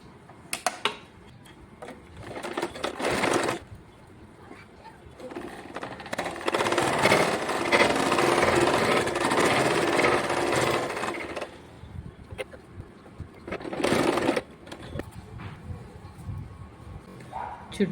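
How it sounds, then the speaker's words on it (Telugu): A domestic sewing machine runs in bursts while stitching around the top edge of a cloth lunch bag with lining, with a long steady run in the middle and shorter runs at either end, close and fairly loud, with no talk. "ఇలా పై వైపు నుంచి ఒక కుట్టు వేసుకోవాలి చుట్టూ"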